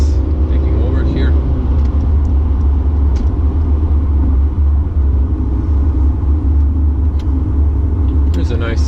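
A 2019 facelift Mercedes C 220d diesel in Sport Plus mode on Croatian roads, heard from inside as a steady, loud, close engine and road rumble that holds evenly throughout.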